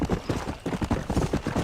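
Horse galloping in a video game, a rapid run of hoofbeats in an uneven, rolling triple rhythm, close and clear over a faint background.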